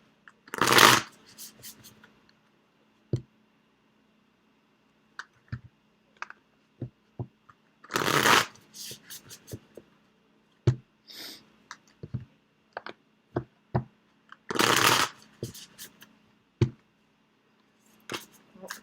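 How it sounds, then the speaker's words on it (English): Bursts of tarot cards being shuffled, riffled in three loud clusters with scattered soft taps and flicks of cards between them, close up. "We're going to shuffle these cards"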